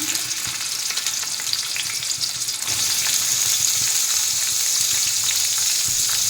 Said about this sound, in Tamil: ஐம்பது கிராம் நெய் வெங்காயம் போடுறேன்